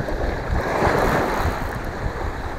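Steady rushing surf on the coast of Oman with wind buffeting the microphone, a continuous broad wash of ocean waves with no voices.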